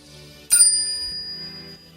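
A bright notification bell dings once, a single clear strike whose ringing tone lingers and decays over background music.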